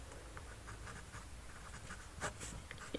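A pen scratches quickly across paper while a maths problem is worked out by hand. Short scribbling strokes repeat close to the listener and quietly, with a couple of sharper scrapes near the end and no talking.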